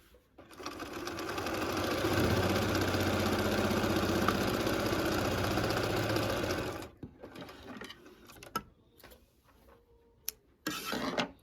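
A sewing machine runs fast and steady while stitching through a quilt, a continuous mechanical whir for several seconds that then stops, followed by quiet handling noises and brief clicks.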